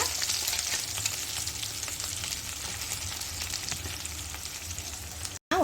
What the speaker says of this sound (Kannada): ಒಂದು ಎರಡರಿಂದ ಮೂರು ನಿಮಿಷ ಹೀಗೆ ಕಡಾಯಲ್ಲಿ ನಾವು ಇದನ್ನು ಬಾಡಿಸ್ಕೋಬೇಕಾಗತ್ತೆ